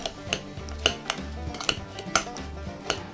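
A utensil scrapes and clinks against a bowl while mixing minced onion, garlic, ginger and sugar, with repeated rhythmic taps close up.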